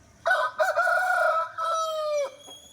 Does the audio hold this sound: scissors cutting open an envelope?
no